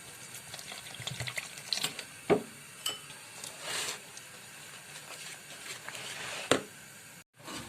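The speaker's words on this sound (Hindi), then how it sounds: "और अब हम इस बैटर को पानी डालकर अपना हम बैटर बनाते हैं।" Water runs and splashes into a bowl of pakora batter, with scattered clinks and knocks of utensils; a steady trickle with a few sharper bumps, no talking.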